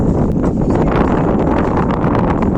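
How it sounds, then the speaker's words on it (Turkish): A strong lodos wind roars across the microphone in a loud, steady buffeting rush with rustling bursts throughout. "rüzgar çıktı."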